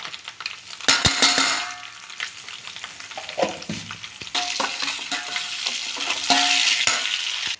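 Spices sizzle in hot oil for a chilli pickle, a steady frying hiss broken by scraping stirs and clinks of a utensil against the pan.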